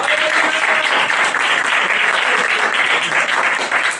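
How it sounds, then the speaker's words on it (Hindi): Loud, dense applause from a large church congregation fills the whole stretch, steady and close with no pauses. "आइए जोरदार ताली जाएंगे यीशु के लिए।"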